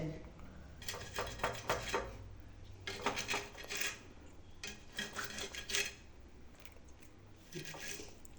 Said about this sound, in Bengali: এই দেখুন মাছেতে কেমন আঁশ বেরোচ্ছে, দেখুন ঘষতেই